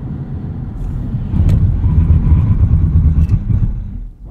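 A 2016 Audi S7 brakes hard from 60 mph, its engine and road noise a low rumble that swells midway as the car decelerates, with brief sharp clicks and a fade at the end.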